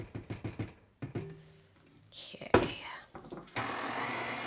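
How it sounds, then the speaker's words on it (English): A blender whirs on a vegan, gluten-free coconut cake batter: a short loud burst of motor whine at the end after a voice and a few kitchen clatters. "we're gonna just blend this enough just so it's mixed"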